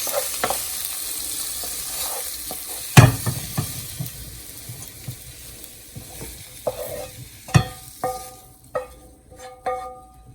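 Caramelized onions and green peppers frying in a pan for an Italian sausage sandwich, a steady close sizzle broken by spatula scrapes and several sharp knocks and taps against the pan toward the end.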